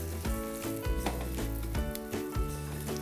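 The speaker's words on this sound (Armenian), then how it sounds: "Այդ հիմա պիտի տապակենք այս երեսը" Breaded pork schnitzel sizzles loudly in a frying pan, a dense continuous crackle with a few louder pops and faint pan scrapes, and no talking.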